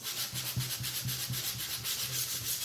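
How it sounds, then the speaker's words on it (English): Sandpaper rubbed over a painted wooden sign in quick, even back-and-forth strokes, a close, soft rasping rhythm with no voices. "my sandpaper is running out"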